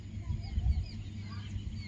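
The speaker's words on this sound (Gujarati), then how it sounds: "પક્ષીઓનો કલરવ સુંદર મજાનો સંભળાય છે." Faint, distant chirps from peacocks and sparrows in a rural village near Botad, scattered thinly over a steady low rumble with no voices.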